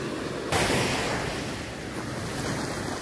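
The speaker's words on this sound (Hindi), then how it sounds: "लहरें देखो क्या खूबसूरत है, शांति कितनी है, लहरों की आवाज आया" Ocean waves wash onto a beach in Goa, a steady, close roar of surf with heavy wind buffeting the microphone and a sudden louder surge early on.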